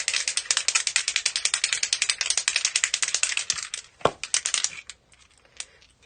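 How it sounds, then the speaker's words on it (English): A spray paint can of iridescent paint is shaken hard, its mixing ball rattling in a fast, steady run of sharp clicks that stops, followed by a few scattered rattles. "So we'll give it a good shake and spray"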